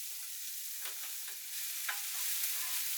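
Onion dropped into a pan of hot venison juices and fat gives a soft, steady sizzle, faint at first and then a little fuller, with a few light stirring scrapes and no voices.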